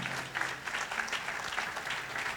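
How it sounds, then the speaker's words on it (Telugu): Worshippers at an annual thanksgiving praise service applaud in praise to God, a continuous patter of clapping heard at moderate distance, with no voice over it. "గట్టిగా చప్పట్లు కొట్టి దేవునికి స్తోత్రం చెల్లిద్దాం"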